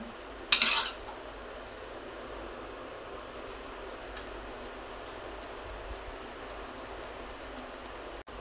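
A spoon taps and scrapes against a bowl while mixing eggless tutti-frutti cake batter, a steady series of light clinks preceded by a brief louder clatter, in an otherwise quiet room.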